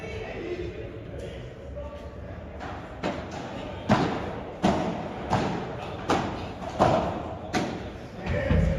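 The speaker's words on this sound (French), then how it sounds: "Cette volée de Samy et ils l'ont fait." A padel match in a P1000 tournament: a rapid rally of sharp ball strikes and thuds off rackets and walls, about a dozen hits in quick uneven rhythm, close and punchy over a faint background murmur.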